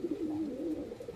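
A Lakka high-flyer pigeon gives a soft, close, low coo that wavers once over about a second, with no voices.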